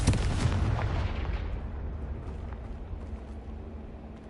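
Confringo blasting spell cast in the video game Hogwarts Legacy: a loud, close explosive burst at the start that rumbles and fades over a few seconds into a low, decaying roar.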